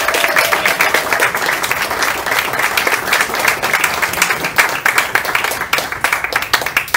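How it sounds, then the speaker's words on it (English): A roomful of people at a campaign fundraiser claps steadily in a dense, sustained burst of applause, loud and continuous, with no voices over it. "A warm round of applause."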